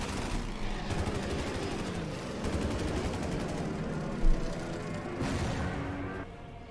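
Dense, continuous gunfire and artillery from the wartime strategy game Order of Battle: Red Steel, steady rapid reports rolling throughout with a sharp louder crack midway.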